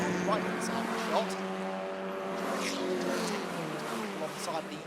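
Ford Fiesta and Mazda MX5 race cars circulate the Kirkistown circuit, engines droning and shifting pitch as they rev at a distance, under continuous commentary.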